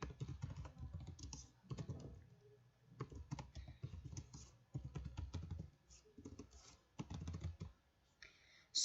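Computer keyboard typing as a school ID and school name are entered into an online form, with fast irregular bursts of close, crisp key clicks separated by short pauses and a sharper click at the very end.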